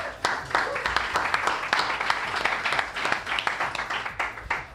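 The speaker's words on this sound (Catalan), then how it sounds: "Fort aplaudiment per Federació Balear de Balcòning!" Applause from a live audience at a Catalan talk show taping, lively clapping throughout with some voices mixed in.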